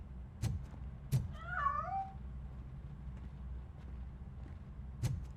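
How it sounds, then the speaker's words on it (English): A cat in the video game RoboCop: Rogue City gives one wavering, drawn-out meow that rises and falls, set among a few sharp knocks and a low steady background hum. "That cat must be hiding inside."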